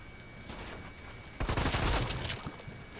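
Gunfire in the Fortnite video game, a burst of shotgun-style shots; a loud cluster of blasts lands about midway and carries on over steady game background noise.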